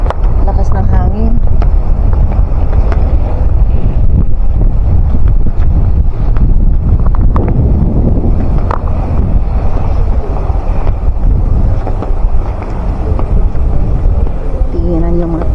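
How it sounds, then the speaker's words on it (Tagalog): Strong wind buffets an outdoor microphone outside a church, a loud, constant low rumble that runs through the whole stretch and nearly buries a voice talking near the start and end. "At lakas ng hangin."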